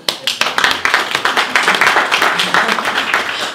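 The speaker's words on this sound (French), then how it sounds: "Ça mérite des applaudissements." An audience applauds with many hands clapping in quick uneven bursts, loud and close, building into a dense sustained round of clapping.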